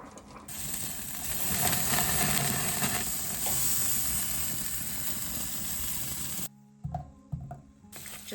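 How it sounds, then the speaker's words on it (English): Butter browning in a pan sizzles loud and steady up close with a busy crackling hiss for most of the time, then cuts off abruptly into a few quieter clicks and knocks. "Just gonna brown my butter now."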